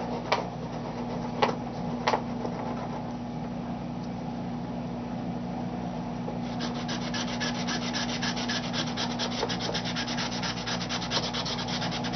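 Steady rubbing of wet paper from a photo transfer on a scrapbook tag, a continuous close scratchy friction with a few sharper scrapes early on and a brighter, more rapid rubbing texture toward the end.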